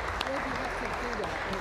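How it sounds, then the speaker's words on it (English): A church congregation at a Sunday morning service claps together, a steady wash of many hands with a few voices murmuring over it. "let's give them a clap before we even start"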